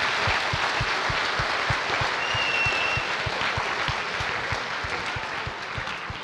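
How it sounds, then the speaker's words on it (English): Loud, sustained audience applause at a 2024 high school homecoming ceremony, a dense wash of many clapping hands with steady rhythm, fading slightly toward the end. "Let's give them all a big round of applause."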